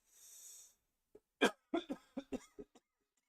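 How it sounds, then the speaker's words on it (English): A soft hiss, then a string of short, close coughs in a quick irregular burst, about seven in a row, ending in quiet. "Just got a cough."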